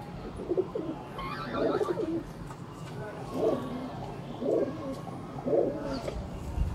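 Rooftop pigeons of a fancy breed coo in soft, repeated bursts against a steady noisy background, with someone talking over them.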